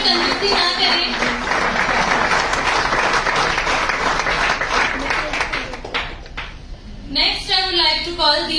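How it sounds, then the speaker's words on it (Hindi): An award ceremony audience in Udaipur applauds in a dense, sustained wave of clapping that thins out near the end, followed by a person starting to speak. "प्लीज तालियों में कंजूसी ना करें।"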